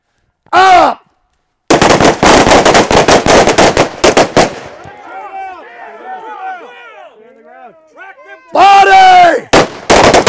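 An AR-15 rifle fires rapid strings of shots, loud and close, while someone shouts commands over the gunfire between volleys.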